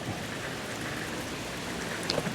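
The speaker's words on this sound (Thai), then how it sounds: "บรรยากาศที่อำเภอสมเด็จฝนตกอีกแล้วครับ" Steady morning rain falls in Samdet district, a constant close hiss of drops on surfaces with a few louder splashes near the end.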